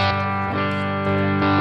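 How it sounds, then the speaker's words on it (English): Overdriven electric guitar through a Boss MS-3 multi-effects switcher, sustained distorted chords ringing steadily and loud, with a fresh strum about every half second and no talk. "This is going to be an overdrive on the unit."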